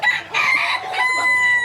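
A chicken crows loudly and close near a coop nest box, the drawn-out call mixed with clucking, with no one speaking.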